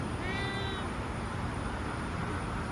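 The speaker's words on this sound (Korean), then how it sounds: "개냥이야 너? 아 귀여워." A cat meows briefly in a short high harmonic call near the start, faint and soon fading, heard outdoors over steady engine or road noise during a Super Cub motorcycle trip on a rural road.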